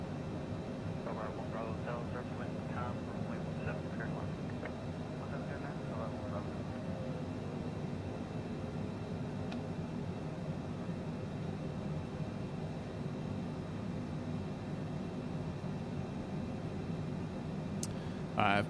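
CJ4 business jet engines idling with throttles pulled back in a flight simulator game, a steady broadband whine and rumble that stays even throughout, with a few faint tones early on and no speech over it.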